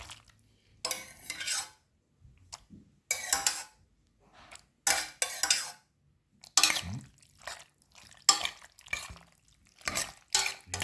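Pasta with mussels is stirred in a pan, giving repeated bursts of wet scraping and clinking utensils against the pan, close and clear with quiet gaps between strokes.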